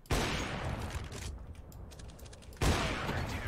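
Loud bursts of gunfire in a video game shooter, a dense volley at the start and another sharp burst near the end, with a busy rattle of shots and impacts between them.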